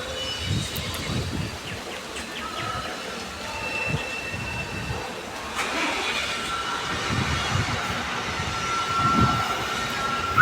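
Train 22676, the Cholan Superfast Express from Tiruchirappalli to Chennai Egmore, pulls out of a station with a low rumbling roll and clattering wheels, steady and moderately near, alongside faint ambient noise and no talk.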